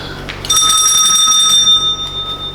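A doorbell rings in a stage comedy scene, a loud sustained electric ring with steady bright tones that hold for about two seconds before fading, with little else around it.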